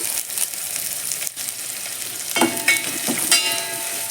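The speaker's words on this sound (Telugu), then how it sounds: "ఇందులోకి కరివేపాకు వేసేస్తాను" Curry leaves are dropped into hot oil in a pan. A steady close sizzle runs throughout and crackles more sharply as the leaves land and are stirred, with no talking.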